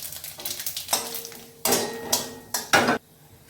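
Whole cloves, cardamom, cinnamon and mace hitting hot oil for tempering, crackling in short bursts with metallic pan and utensil clatter, close and moderately loud, no talk.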